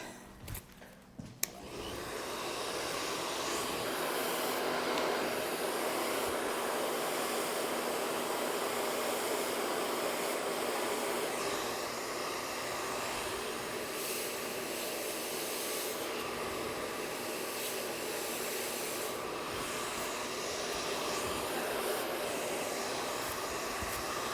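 A hair dryer blows steadily while styling a mono top hair topper for a woman, a loud continuous whooshing roar that starts after a brief clatter and runs unbroken to the end.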